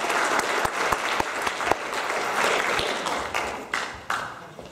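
An audience applauds Matt, Dana and Melanie at a forum, with steady clapping carrying a few sharp, distinct claps on top before it gradually thins out.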